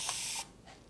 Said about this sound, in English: that was one spritz.